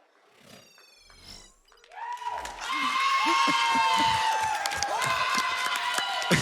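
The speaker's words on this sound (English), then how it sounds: "you guys are cheering for the demo pretty loud" A crowd cheers and roars loudly for a Puzzle Bobble arcade speedrun demo at a live marathon event, starting after a short electronic jingle and swelling into sustained whoops and shouts.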